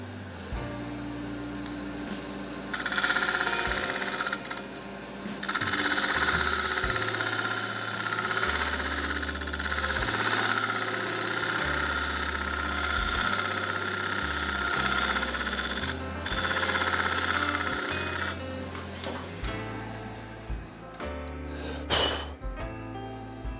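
A wood lathe spins a wood and epoxy resin shaving brush handle under a spindle gouge. The motor gives a steady droning hum that shifts up and down in steps as the speed changes, with no talking.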